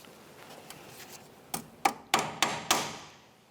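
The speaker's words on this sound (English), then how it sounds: "Peen it over so there's no way this can loosen up on its own." A hammer strikes a cotter pin through a tie rod end to peen it over on a 2004-2006 Scion xB, five sharp metallic taps close by after a few faint knocks.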